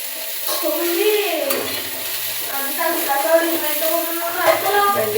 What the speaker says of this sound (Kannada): ಬೆಂಡೆಕಾಯಿ ಹುರಿಯತನ ಇಟ್ಟೆ ನಾವು.